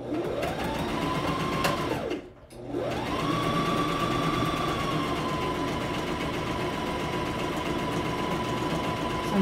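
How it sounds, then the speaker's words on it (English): Up close, a sewing machine stitches along the top of a garment facing, a steady whirring run that stops briefly, then picks up again and keeps going. "So I'm just sewing along the top of the facing."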